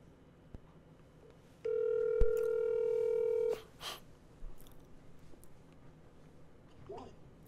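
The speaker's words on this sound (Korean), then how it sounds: "YJ님한테 한번 통화를 하도록 하겠습니다" Telephone dial tone, a steady electronic tone lasting about two seconds while a call is placed, heard close and clear with a brief click and some quiet breathing and rustling afterward.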